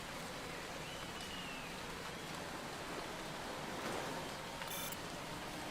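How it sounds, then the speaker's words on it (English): Rain beginning to fall during a qualifying session in the racing game Motorsport Manager, a steady hiss of rain noise filling the scene at low, even level with no talk. "Rain is starting."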